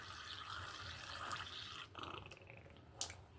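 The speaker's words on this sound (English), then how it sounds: "I'm going to bring this up to the 5 ounce now with the water" Water pouring and dripping into a container being topped up to the five-ounce mark, a steady liquid splash with a brief drip-like break near the end, moderately quiet.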